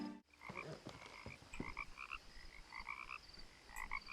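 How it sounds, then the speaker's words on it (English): Frogs croak repeatedly in the video game What Remains of Edith Finch, a rhythmic chorus of short paired calls that carries on steadily through an ambient outdoor soundscape, with no talking. "Lovely, lovely, lovely little frogs."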